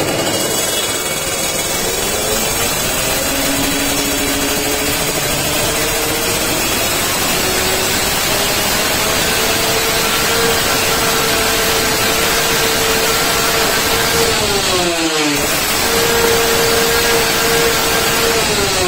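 A two-stroke motorcycle engine climbs steadily to very high RPM with a rising, buzzing whine, then briefly cuts out and revs again. It sounds loud and close, with no talk.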